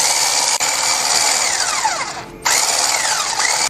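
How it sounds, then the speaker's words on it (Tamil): A whirring electric mixer beats butter for sponge cake batter, running steadily, its motor pitch sliding and briefly dipping before surging back up. "இந்த பட்டரை பீட் பண்ணணும்"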